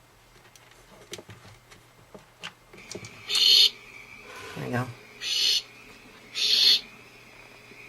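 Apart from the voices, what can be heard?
barn owls calling at night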